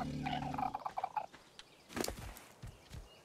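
A Pelagornis bird creature in ARK: Survival Evolved lets out a warbling, gobble-like call in a quick series of rough bursts, followed by scattered soft thumps and clicks.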